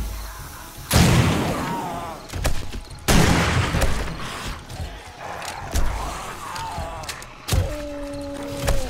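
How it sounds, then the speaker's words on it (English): Shotgun blasts in the survival game 7 Days to Die, several loud, booming single shots spaced a second or two apart, each with a brief decaying tail, among occasional thuds and faint voices. "Shotgun."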